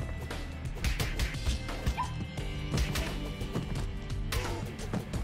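Were-dog enemies in the brawler game Mayhem Brawler bark and yip in repeated bursts over busy game music and fight effects, at moderate volume.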